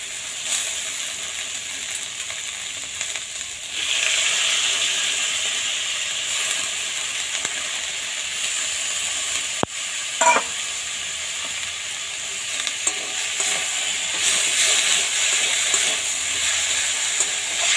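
Steamed cabbage frying in a pan with spices, a loud, continuous hiss and sizzle up close, steady throughout with an occasional brief clink of the stirring utensil.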